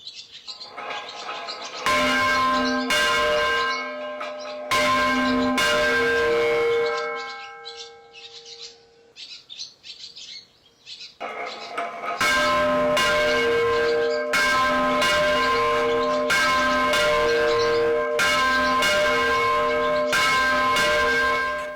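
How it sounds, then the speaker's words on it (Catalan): A church bell rings loudly in repeated clanging strokes, pausing briefly in the middle with a lingering hum, then resuming in a steady rhythmic peal. "Campaneta, la xicoteta, din, din, din"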